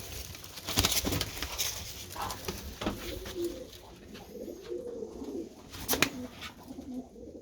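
A Mosul pigeon coos in a coop in low, soft rolling phrases, close up, among wing flutters, rustling and background noise.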